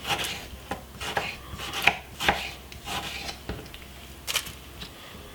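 Two medium-sized tomatoes are sliced for a vegetable salad, the knife striking the cutting board in a loose, uneven run of crisp chops, close and fairly loud with no talk.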